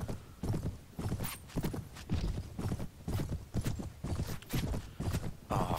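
A horse gallops in the Prophesy of Pendor mod of Mount & Blade, its hooves clip-clopping in a steady, rhythmic beat of close, loud strikes repeating across the whole stretch.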